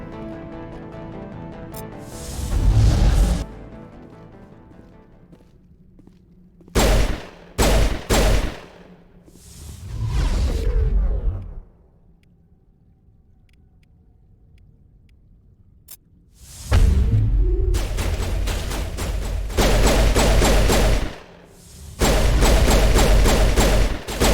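Bursts of squad gunfire from the Mass Effect Legendary Edition video game, loud rapid volleys in several separate clusters with quiet gaps between, some heavy thumping shots.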